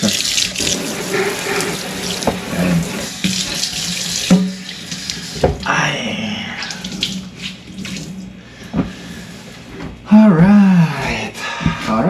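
A kitchen tap runs into a sink while dishes are washed, a loud steady gush with clatter and shifting splashes, and a voice speaks briefly over it.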